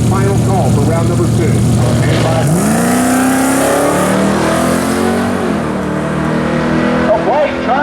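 A Pontiac Trans Am Ram Air roars at a drag race, its engine note climbing and sweeping upward as it launches, loud and continuous throughout, with an announcer's voice over the track noise.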